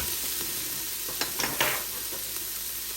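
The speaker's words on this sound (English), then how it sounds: "once you start to hear the sizzling sound, it's time to get your wooden spoon out and start mixing your onion a bit" Onion and garlic sizzling faintly in an Instant Pot, a steady low hiss with a few brief scraping stirs of a wooden spoon in the middle.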